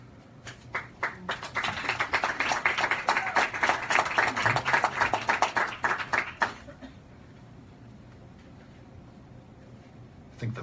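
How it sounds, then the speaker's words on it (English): Round of applause from an audience at a book reading, steady clapping for about six seconds before it thins out, then a quiet room. "I think the fellow writer started that round of applause out of mercy."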